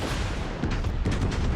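Naval guns firing in the World of Warships game, a King George V battleship under fire: loud, dense booming and rumbling explosions that overlap in a sustained barrage with no pause.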